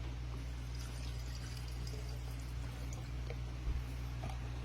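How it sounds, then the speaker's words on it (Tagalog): Tap water is poured into a clean jar holding ginger for homemade ginger beer, a steady soft trickle running throughout against a low background hum, with no talking. "Lalagyan po natin ng 250 ml ng tubig. Normal tap water lang po ito."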